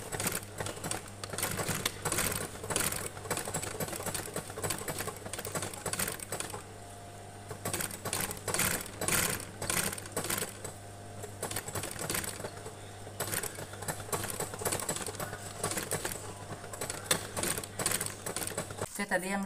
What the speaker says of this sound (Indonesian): Oke, yuk sekarang kita jahit dulu.